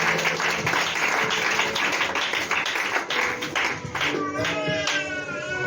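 A church congregation claps in a dense, rhythmic burst of applause close by, which gives way to tonal voices or music rising toward the end.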